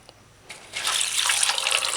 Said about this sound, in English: let's throw some water on this and soak it